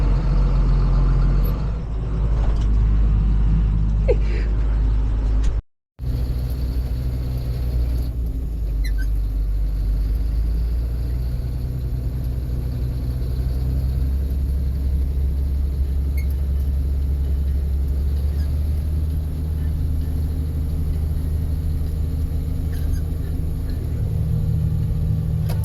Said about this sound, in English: Pulling into town here now.